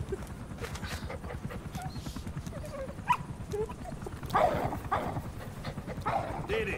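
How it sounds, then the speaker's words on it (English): Diamond Dog companion in the video game Metal Gear Solid 5: The Phantom Pain, with a dog's barks and small yips scattered over a steady busy game background, moderately faint, with a voice talking intermittently. "Following orders like a real diamond dog."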